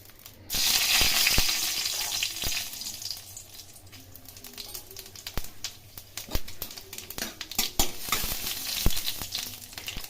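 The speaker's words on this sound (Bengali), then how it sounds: "এখন এই তেলের মধ্যে শুকনো লঙ্কা এবং পাঁচফোড়ন ভেজে নেব" Dried red chillies and panch phoron frying in hot oil, a sharp sizzle that flares loudly at first, then settles into a crackling hiss with scattered pops and stirring clicks, with no talking.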